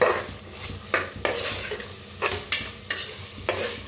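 Spices and onions roast in a pan, a steady close sizzle broken by about eight sharp stirring scrapes at irregular intervals, with no voices.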